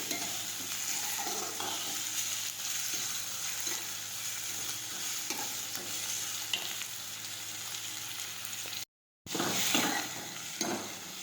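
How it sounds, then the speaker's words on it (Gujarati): Moong bean curry sautéing in a pan, a steady dense sizzle and crackle with occasional spoon scrapes, close and continuous, briefly cutting out before resuming, with no talking. "ત્યાં સુધી ચડી ન જાય ત્યાં સુધી આપણે સાતળાતા રહીશું"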